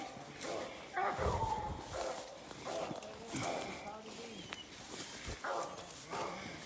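A 3-month-old puppy out on an outdoor coon hunt gives short yips and barks with a few whimpers. Footsteps and people talking are heard throughout.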